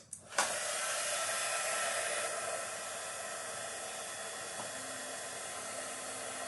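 A heat tool blows hot air to warm glue, starting with a click and then holding a steady, close whooshing hiss that continues for the full clip.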